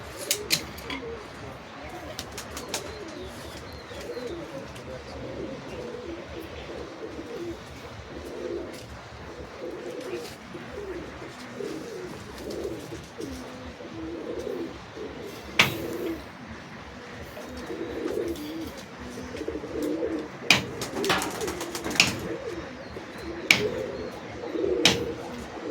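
Giribaj and Teddy pigeons coo in repeated soft, low rolling phrases, fairly close and steady, with occasional sharp knocks and rustles breaking in and louder clicks toward the end.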